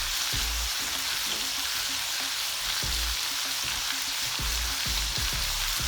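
Food with cilantro frying in a pan in a home kitchen, heard as a steady, close, loud sizzle with soft thumps of stirring underneath and no talking.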